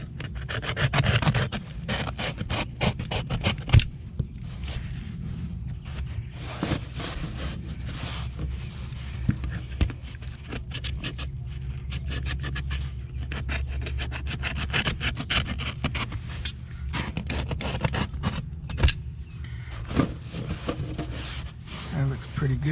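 Truck carpet being trimmed during an interior install in a 1988–1998 Chevy OBS pickup: continuous close scraping and rubbing with scattered sharp cutting and scratching strokes, steady and fairly quiet throughout.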